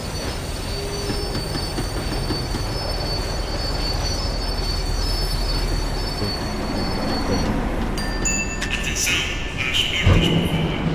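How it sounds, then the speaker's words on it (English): Tram in a first-person action video game braking on its rails, with a steady loud rumble of wheels and a metallic squeal rising toward the end as it slows. "The tram was slowing down, and I'd only just gotten on board."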